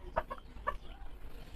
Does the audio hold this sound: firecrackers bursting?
no